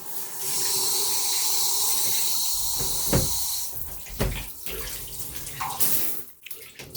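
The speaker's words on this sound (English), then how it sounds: "what's that cold water coming down from the shower?" Water streams steadily from a Waterpik WaterPulse UltraThin+ five-spray shower head, a broad hiss that runs loud for several seconds, then breaks into uneven splashing and drips as the flow is interrupted.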